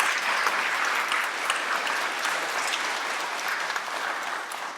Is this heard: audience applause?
yes